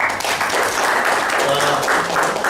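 A meeting crowd welcomes the guest speaker Jayanti Kaka with loud, close applause, thick continuous clapping with faint murmuring voices mixed underneath.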